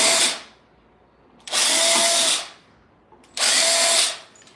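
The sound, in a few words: power drill drilling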